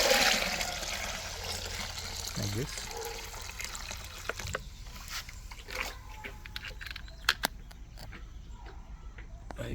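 Rainwater collected in a barrel is poured into a bucket for mixing with molasses in an organic pepper garden. Water gushes in at first, then settles into lighter trickles and splashes while someone talks.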